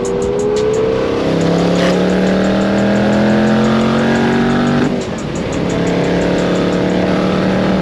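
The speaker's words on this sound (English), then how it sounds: "Let's hear them blow off valves." A twin-turbo 2024 Mustang revs hard on a mountain road, loud and close, with rising engine tones, a sharp chuff near two seconds and another drop near five seconds as the throttle lifts, then it pulls again.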